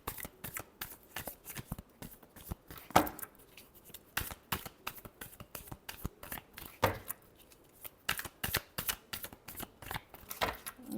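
Tarot cards being shuffled by hand: a steady run of quick riffling, slapping card bursts, close and fairly quiet, with no talking.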